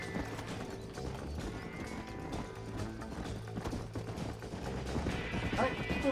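Steady clip-clopping hooves with occasional horse whinnies in the video game Red Dead Redemption, over a busy game backdrop, moderately loud and continuous.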